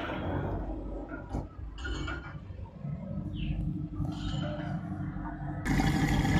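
7 kg LG front-load washing machine drawing water through its inlet valve, a steady close rush and trickle of filling water with faint clinks, turning louder and brighter in the last second.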